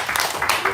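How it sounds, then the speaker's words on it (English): An audience claps together at a Sunday devotional talk, a brief burst of dense, steady applause heard up close. "Let's give a clap."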